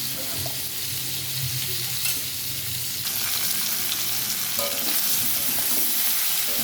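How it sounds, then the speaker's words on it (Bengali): Steady sizzling of vegetables frying in hot oil, with occasional scraping and stirring sounds from a spatula, close and continuous. "সবজিগুলো আমার লাল লাল করে ভাজা হয়ে গেছে"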